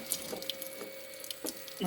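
Leftover water trickles and drips from a loosened fitting nut on a circulation pump being removed, a few small splashes and drips close by with faint handling clatter.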